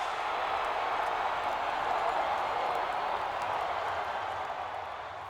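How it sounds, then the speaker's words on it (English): Busch Stadium crowd roaring after the Cardinals clinch the National League pennant, a dense, sustained wall of cheering and applause that stays loud throughout and eases slightly at the end. "The Cardinals are National League champions, and this crowd is just simply bonkers."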